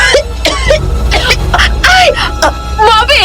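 Repeated harsh coughing and throat clearing from a frightened, weakened person, short bursts spread across a few seconds amid strained vocal sounds, close and loud.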